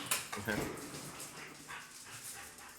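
During a tabletop role-playing game, a player's voice imitates dogs barking in a few quick yips and woofs. The barks are short, moderately loud and close, with others' voices faintly around them.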